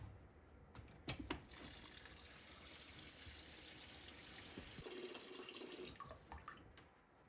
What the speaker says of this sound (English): I'm going to put fresh water on top of that.